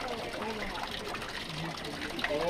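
Drinking water trickling through the ancient stone channels at Machu Picchu, a steady soft gurgling flow heard close, with faint voices in the background.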